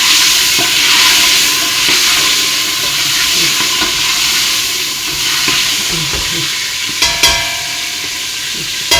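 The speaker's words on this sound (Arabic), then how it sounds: "الحمص اللي حطيته توا يغلي هكا نوريهولكم." Chickpeas fry and sizzle in hot oil in a pan for a couscous dish, with steady loud crackling and the scrape of stirring throughout, plus a few sharper clinks near the end.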